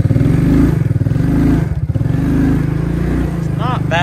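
A Suzuki KingQuad ATV engine runs in first gear on a low-range test, giving a close, loud, pulsing mid-pitched drone with clattering undertones, while someone talks over it.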